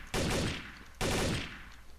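Two loud, close gunshots from a gun in a shooter video game, about a second apart, each a sharp blast with a ringing decay that fades before the next.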